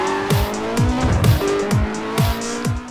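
A BMW M1 Procar accelerates in the video game Need for Speed World, its racing engine revving hard through rapid repeated upshifts with squealing tires, loud and close.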